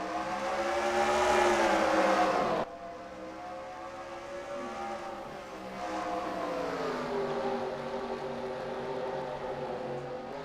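Race cars in the NASCAR Racing 2003 video game roar around the Phoenix track, a loud dense engine drone that thins briefly after a sudden drop, then swells again as the pack passes, with no voices.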